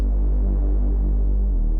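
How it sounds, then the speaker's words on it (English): Synthesized Reese bass with an LFO sweeping the cutoff and resonance, a thick, steady throbbing low drone heard alone and loud throughout. "so now that we have this Reese bass kind of sounding solid"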